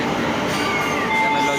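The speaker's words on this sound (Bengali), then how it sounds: "তো ফাইনালি ট্রেনে আইছে" A train pulling into a station in India, steady rolling rumble with faint tonal squeal, continuous and fairly loud under a busy platform, with a voice talking over it.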